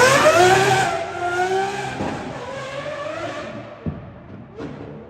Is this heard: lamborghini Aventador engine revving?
yes